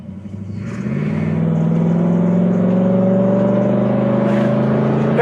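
A 1967 Buick GS convertible's engine revs up and accelerates hard, its deep growl climbing steadily in pitch and holding loud and close.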